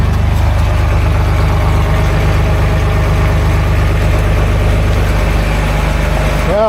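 A 1989 Dodge W100 truck engine idles with a new muffler fitted, a loud, steady low rumble with an even throb, close by and continuous throughout.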